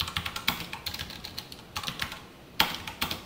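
Code being typed on a computer keyboard, a run of quick, close key clicks in uneven bursts with short pauses and no talking.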